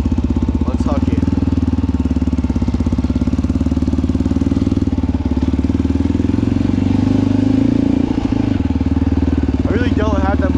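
A 350cc dirt bike engine running while ridden, a loud, close, steady pulsing thrum that swells slightly midway, with brief voices audible over it.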